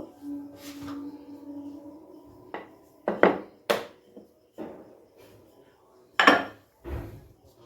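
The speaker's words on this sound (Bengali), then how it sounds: "একটু বড় করেই বেলে নিলাম।" A rolling pin works egg roll dough on a board, giving light wooden knocks and taps in an irregular rhythm, close and fairly quiet, with faint talk in places.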